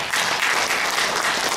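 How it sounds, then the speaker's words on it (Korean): Audience applause at an academic conference on a dictionary museum, a brief burst of steady clapping from a hall crowd, moderately loud and continuous throughout. "박수 한번 주십시오."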